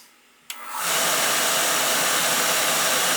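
An oil furnace burner at a dentist office fires up after a brief click, settling into a loud, steady broadband roar that holds on to the end.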